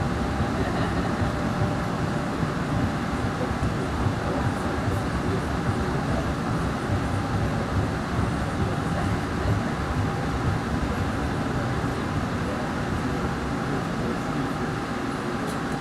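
An MBTA Green Line B Branch train heading to Boston College rumbles along steadily, a continuous close interior roar of wheels and car noise with no pauses.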